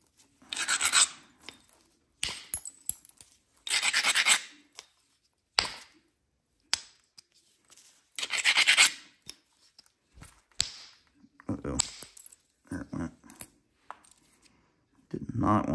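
Alabama Coastal Plains chert is knapped close up while an edge is worked, with repeated scraping abrasion and sharp tapping strikes in irregular bursts and pauses.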